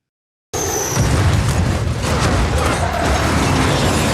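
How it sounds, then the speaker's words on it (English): A bombed convoy explodes on a bridge in the action film Fast X. A heavy boom bursts in after silence and turns into a sustained, loud rumble with mechanical debris noise. "the convoy taking him gets bombed by Dante"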